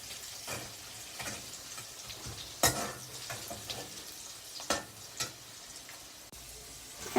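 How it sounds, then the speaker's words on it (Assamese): Fish fries in a pan with a soft, continuous sizzle at fairly low volume, broken by a few scattered taps and clinks of a utensil against the pan. "বুট বনাবৰ কাৰণে ফিচ ভাজি আছোঁ"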